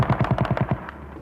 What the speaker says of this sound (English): It was the start of 5 hours of mortar and gunfire.